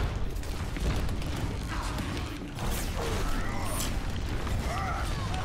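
A fire strike explosion in a video game, a dense rumbling blast with crashing debris and scattered pops that fill the whole clip, loud and close.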